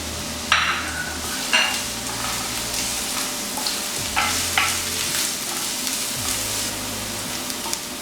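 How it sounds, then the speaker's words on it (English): Onion frying in oil in a frying pan for a potato egg omelette, a constant sizzle broken by several sharp scrapes of a spatula against the pan, nearby and fairly loud, with no speech. "I'm gonna add my onion."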